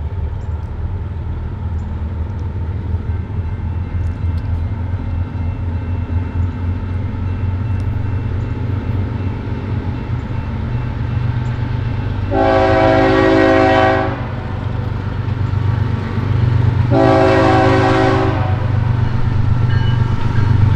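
A BNSF eastbound Z intermodal freight train rolls steadily past on the Chillicothe Subdivision, its loud diesel rumble continuous, while the horn blasts twice, two sustained chords about four seconds apart.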